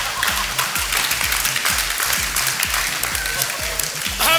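Applause at a press conference for a dance television show's grand opening ceremony, with a crowd clapping steadily and fairly loudly while a voice talks over it.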